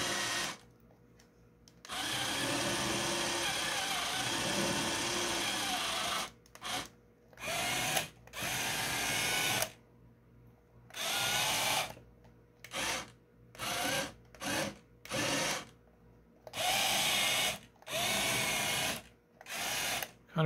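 Electric motors whir as a remote-controlled model of the Vincent robot from the 1979 film The Black Hole drives around, loud sustained buzzing runs broken by short pauses and quick start-stop bursts, close up with no talking.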